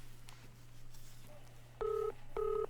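An old telephone in a 1983 scene is dialed. Two distinct tone bursts follow each other over a steady low hum and faint background noise, and no one speaks.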